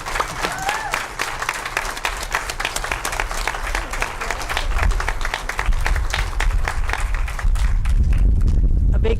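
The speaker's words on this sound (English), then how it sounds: "Let's give our 5th grade class another round of applause." An audience at an elementary school Veterans Day program gives a fifth grade class a steady, dense round of applause, close and loud throughout, with some crowd noise mixed in.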